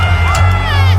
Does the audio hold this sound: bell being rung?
no